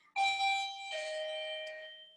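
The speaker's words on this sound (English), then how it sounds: "Ignore my bell, it's my neighbors." A neighbor's doorbell rings with a clear two-tone chime, sustained bright tones ringing out and fading, close and alone with no talk.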